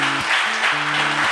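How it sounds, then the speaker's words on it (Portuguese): A church congregation applauding, dense continuous clapping close by, with a sustained low tone sounding beneath it. "Você pode dar um aplauso ao Senhor?"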